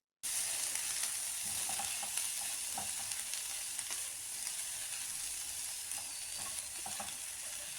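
Long beans stir-fried over medium-low flame in a pan for Kerala mezhukkupuratti, a steady close crackling sizzle with occasional scraping stirs throughout, no voices.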